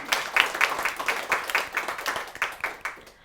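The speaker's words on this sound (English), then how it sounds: "Let's give her a round of applause." An audience claps in a quick, uneven rhythm of distinct individual claps, fairly close and moderately loud, ending abruptly near the end.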